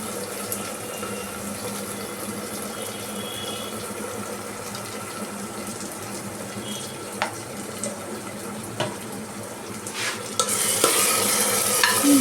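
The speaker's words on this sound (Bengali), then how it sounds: "এটা একটু নাড়িয়ে নিচ্ছি, মানে কষিয়ে নেওয়া যেটা আমরা বলি" Spices with ginger paste sautéing in a pan, a continuous close sizzle with occasional scraping stirs, growing louder and hissier as the clip ends.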